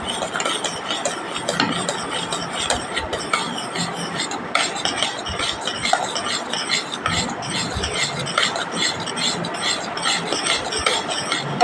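Green chillies and spices being sautéed for a bottle gourd curry give a steady, loud scraping and sizzling texture, with continuous stirring against the pan and no voices.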